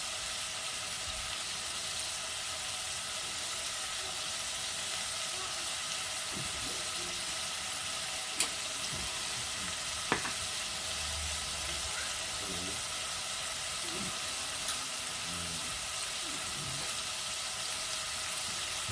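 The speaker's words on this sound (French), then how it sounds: "il faut bien faire revenir ces oignons" Onions sizzle and fry in a pan for a beef shank and beer stew, a steady broad hiss throughout with a few faint clinks and stirring sounds, close and alone without speech.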